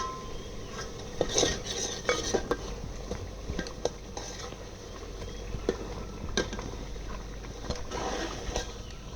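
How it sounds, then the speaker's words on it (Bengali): Goat meat being stirred in a cooking pot, with a spoon scraping and clanking against the metal in repeated strokes over a low simmering bubble and a steady background hum. "বৌমা লাড়া দাও, লাড়া দাও"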